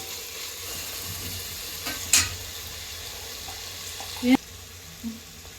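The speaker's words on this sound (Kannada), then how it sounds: "ಈಗ ಟೊಮೆಟೊ ಈರುಳ್ಳಿ ಚೆನ್ನಾಗಿ ಫ್ರೈ ಆಗಲಿ." Tomato and onion frying in a pan with garlic paste, a steady soft sizzle throughout with a few brief clinks and scrapes of stirring, close and moderately loud.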